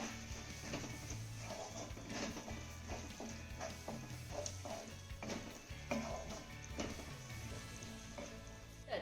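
Chopped coriander is stirred into cooked taro-stalk vegetable in a pan. Faint, soft scraping strokes repeat at an irregular rhythm over a low, quiet sizzle.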